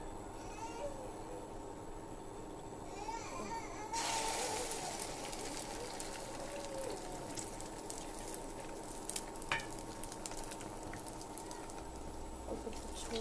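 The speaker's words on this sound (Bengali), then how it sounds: "ডিমটাকে ভেঙে আমি এটা তেলে দিয়ে দেবো" An egg mixed with malabar spinach hits hot oil partway through. A quiet background gives way to a sudden bright hiss that settles into a sustained sizzle, close and moderate in level, with soft liquid pops.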